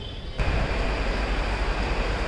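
At Banaras railway station in Varanasi, a train's loud, steady rumble begins abruptly after a brief quieter moment and continues close by without any speech.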